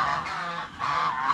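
Farm turkeys raised for slaughter let out two short bursts of raspy calls, close and fairly loud, with no talk.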